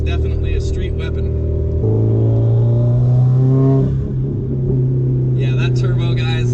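Turbocharged Subaru STI from an auction revving hard on a dyno, its engine note rising and holding loud and steady as boost comes in, with voices talking over the roar.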